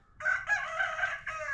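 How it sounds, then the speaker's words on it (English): A rooster crows loudly and close by, one long drawn-out cock-a-doodle-doo in several sustained segments, among loose chickens at a dumpster delivery site. "Obviously some chickens back there."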